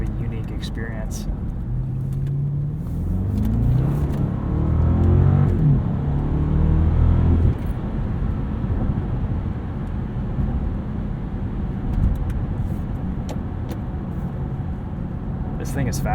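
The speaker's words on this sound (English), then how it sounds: "you can tell that there's just a little bit more of an exhaust note here than the standard 6 Series" A 2015 BMW Alpina B6 Gran Coupe engine and exhaust note, heard from inside the cabin while driving, with a steady low drone that rises in pitch as the car accelerates partway through.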